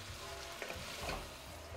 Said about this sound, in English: You wanna be able to hear a little bit of that sizzle in there, but not so much that it's gonna burn your onions.